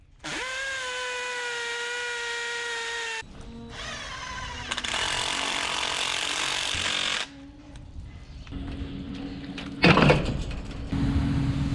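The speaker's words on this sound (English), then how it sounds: "Have to drill new holes for them." A motorized tool whines and grinds steadily while drilling new holes in a barn pen board, changing pitch as it works, with a sharp rattling burst near the end.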